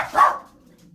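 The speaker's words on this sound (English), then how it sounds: "And sorry about my dogs. They're chasing after my cat." Dogs bark in a short burst near the start while chasing a cat indoors, a single loud yelp-like bark that fades quickly into quiet room noise.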